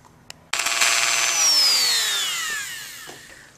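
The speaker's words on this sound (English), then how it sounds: "I used a little grinding stone for that right there" A small grinding stone roughs up hex standoffs during a 1936 Philco Model 630B radio restoration. The rotary tool spins up into a loud, close, high whine, then slowly winds down in pitch.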